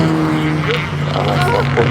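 A Lotus Sunbeam rally car roars past on the Pembrey race circuit, its loud engine note holding steady and close with a slight rise in pitch as it goes by.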